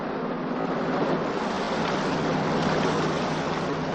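A boat moves across open water, with waves washing and wind buffeting in a steady, broad rush that stays even throughout.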